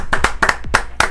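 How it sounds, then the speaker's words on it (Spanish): Applause from a few pairs of hands on a football podcast, five sharp, close claps in a quick, slightly uneven rhythm, with no talk. "Vamos a darle el aplauso, hombre."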